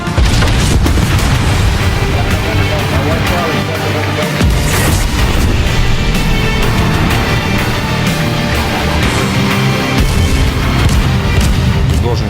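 Heavy naval gunfire and booming shell blasts from a battleship in World of Warships, dense and continuous with repeated loud bursts over a busy battle mix and background music, with voices mixed in.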